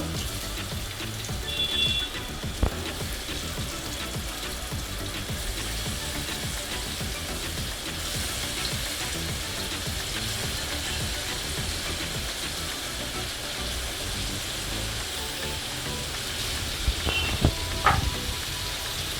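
Chicken pieces for biryani frying in a pan, giving a steady, fairly loud sizzle throughout with a few brief clinks or stirring knocks near the start and toward the end.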